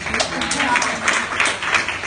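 Audience applause at an event on African women and leadership, a steady wash of clapping with voices talking over it.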